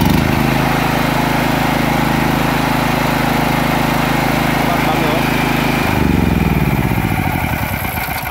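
A SENCI SK5500E 5.0 kVA generator engine runs loudly and steadily close by, its even drone shifting in tone near the end as the load or speed changes.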